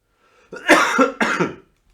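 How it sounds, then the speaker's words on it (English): Two quick, harsh coughs close to the microphone, one right after the other, with silence before and after. "Sorry for the cough, it's annoying me as well."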